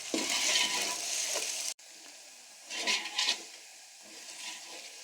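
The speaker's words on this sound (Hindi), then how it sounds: "प्याज लहसुन और अदरक हमारे यहाँ पे फ्राई हो रहे हैं ड्राई मसालों के साथ।" Onion, garlic and ginger frying with dry spices for beef yakhni pulao, with a loud hissing sizzle that cuts off briefly, then quieter frying with a couple of stirring bursts.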